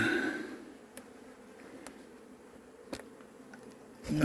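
Faint, steady buzzing of honeybees around a beehive hums in the background, with a few soft clicks and taps scattered through; no voices.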